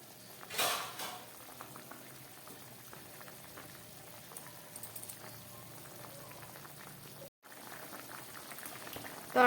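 A vegetable curry seasoned with Maggi masala boils in a pot on a gas stove, giving a soft, steady bubbling with a brief louder burst near the start and a momentary drop-out later.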